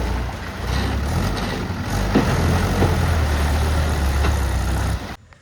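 Two tractors, a Mahindra and a Sonalika, working on a muddy earth-moving job, their diesel engines rumbling low and steady at close range with no talk, before the sound cuts off abruptly near the end.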